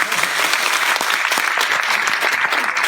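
A comedy show audience in Gondange breaks into dense, loud applause, a continuous roar of many hands clapping close and full, steady from start to finish without talk over it.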